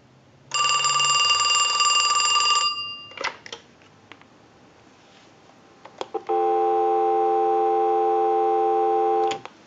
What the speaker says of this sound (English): I'll let it go one more time and we'll give you some dial tone